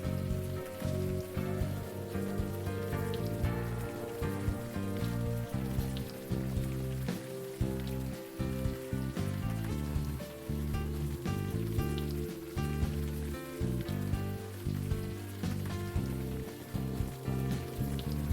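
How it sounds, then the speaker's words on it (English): Steady rain pours on the streets in the Unavowed video game, an even patter running throughout beneath prominent background music. "You're walking the streets in the rain"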